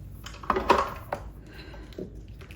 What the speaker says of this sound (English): little stir down just to make sure everything comes together like it should